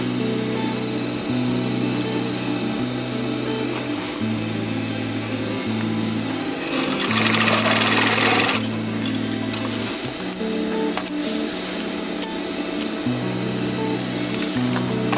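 Sewing machine stitching a Molle panel, a steady mechanical hum with stepped pitch changes and short pauses as the seam is sewn back and forth several times, close and continuous.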